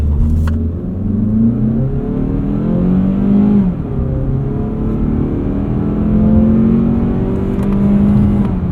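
A 2026 Mazda CX-30 2.5S Aire Edition launches hard, its engine revving up through rising pitch sweeps with gear changes, loud and close from inside the cabin.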